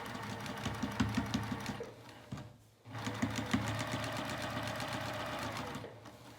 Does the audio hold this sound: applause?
no